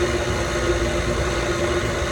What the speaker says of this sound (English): I've got my dough attachment on my KitchenAid. I'm just going to get this started. We're going to go on low.